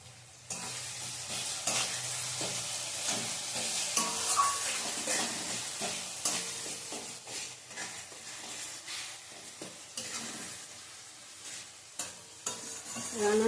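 Ground poppy seed paste with chili fries in a pan, a close sizzle with frequent scraping strokes of a spoon that come in uneven bursts, and no one speaking.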